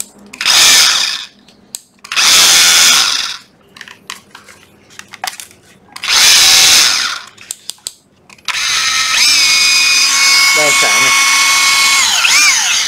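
A cordless brushless drill/screwdriver spins in several short loud bursts with pauses between, then runs steadily for a longer stretch with a shifting whine, close by, between spoken remarks.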